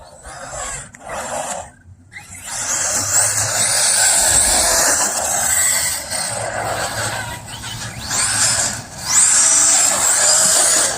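An Arrma Mojave BLX RC car runs on a street, its electric motor whining in loud, fluctuating bursts that rise and drop with throttle, briefly cutting out between runs.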